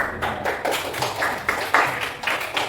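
Children in a primary school classroom clap their hands together, a quick scattered patter of claps with uneven rhythm, close by and moderately loud, with no voices over it.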